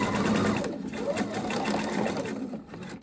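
A sewing machine stitching a sequined skirt, closing the last gap in the elastic casing, runs with a steady fast whir close by while someone speaks over it.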